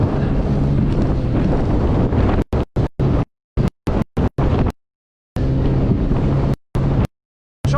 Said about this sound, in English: It's pretty breezy, so the wind gets under the bow a little bit.